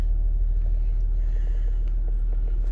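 A 2007 Range Rover Sport engine idles just after starting, a steady low rumble heard from inside the cabin, continuous and even with faint clicks above it.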